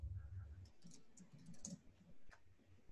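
Soft, quick keystrokes on a computer keyboard as a command is typed, a few faint clicks close by in a quiet room.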